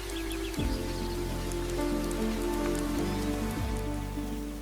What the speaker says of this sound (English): the exact place where the rain falls